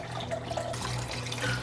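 Beef broth is poured into a pot of homemade chili with beans and sausage, giving a short, soft liquid trickle and splash up close, with no talking.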